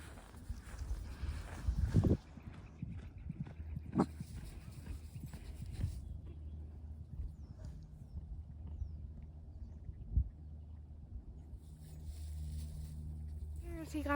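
A horse's hooves clop outdoors near a river around Fort Collins, Colorado, as a few scattered, moderately loud knocks over a steady outdoor background, with faint voices in places.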